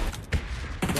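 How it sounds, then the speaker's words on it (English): A bomb explodes close by in a video game, a short heavy blast with a second burst following a fraction of a second later. "that bomb hit pretty close"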